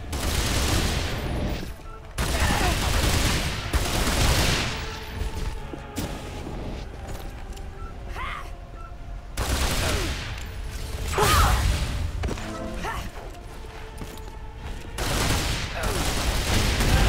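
Sustained bursts of gunfire aimed at Natla in the final battle of Tomb Raider: Anniversary, loud clusters of shots separated by brief lulls, with game effects and a voice in between.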